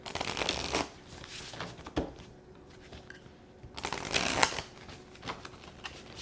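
Tarot cards being shuffled by hand during a reading, two close bursts of riffling and flicking separated by a quieter pause.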